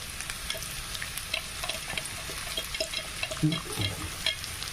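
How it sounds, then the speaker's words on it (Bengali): Chopped onion frying in a pan during preparation of methi malai matar, a steady close sizzle and crackle with soft stirring sounds and occasional louder bubbling pops. "এর উপর থেকে আমি ওই কুচনো পেঁয়াজ। পেঁয়াজটা দিয়ে দেবো কোটা তলায় ওর মধ্যে।"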